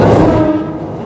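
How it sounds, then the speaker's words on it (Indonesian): A commuter train from Manggarai station in Jakarta passes directly overhead on a rail line above a dense neighbourhood, giving a loud, close, continuous rumble that slowly fades over a second. "Persis di atas kita nih keretanya lagi lewat. Kereta dari stasiun Manggarai ya"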